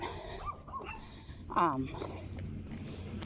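A dog gives a short whimpering yelp with a few small yips in a room, close but brief, while someone talks before and after it.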